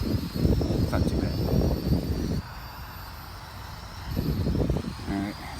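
A Holy Stone X400 quadcopter drone flies outdoors in a gusty wind. Its rotor buzz blends with loud rumbling wind buffeting, which drops briefly midway before surging again.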